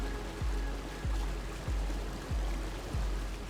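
A waterfall in the video game Tunic produces a steady, fairly loud rush of falling water. Five evenly spaced low thuds sound every half second or so over the roar, and no one speaks.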